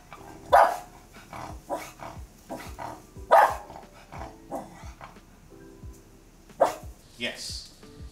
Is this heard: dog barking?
yes